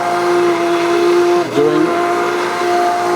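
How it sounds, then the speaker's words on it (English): An immersion blender whirs steadily through a pot of rutabaga and ginger soup, its motor pitch dipping briefly midway as it hits chunks, then recovering, loud and close with no talking. "I've got my immersion blender plugged in, and I'm running around inside here"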